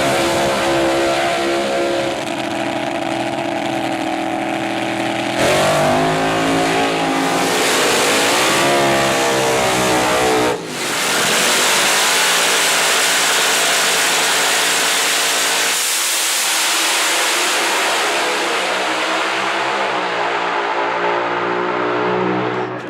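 Classic race car engine running loud and close, revving up and down repeatedly with a harsh, rough exhaust roar that swells and drops over a long stretch.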